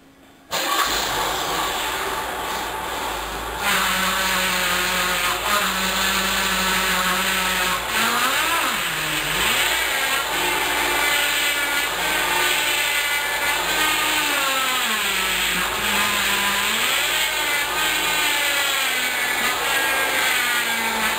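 A car's power steering pump runs with the engine idling after the fluid is refilled following a complete loss, giving a steady whine and hum whose pitch swoops and wavers, loud and close, with no talking.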